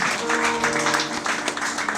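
Cheering and applause from wedding guests at a Gabonese nuptial blessing as the bride is brought in, a dense steady wash of clapping with voices mixed in, close and fairly loud throughout.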